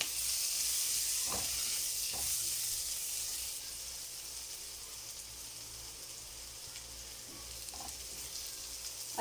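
Ginger and garlic sizzling in hot oil in a pan for a bangus with tofu and salted black bean dish, a steady broad hiss throughout with a few soft clinks of a utensil, close and moderately loud.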